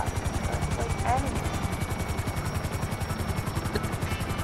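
A helicopter in a video game beats with a fast, even rotor chop, a loud and steady thudding pulse that continues for the whole span, with faint game noise behind it.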